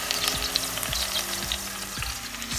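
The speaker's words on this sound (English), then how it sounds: "As you can probably hear, there's a beautiful noise in the background. It's a sofrito" Sofrito sizzling in a pan for a vegan Sicilian ragu, a steady close crackling fry with light stirring scrapes, no voices.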